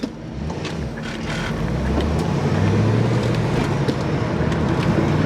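A 2023 Corvette cruising on the road, its low engine drone and tyre and road noise holding steady and rising slightly in loudness throughout, with wind rush over the top and no talking.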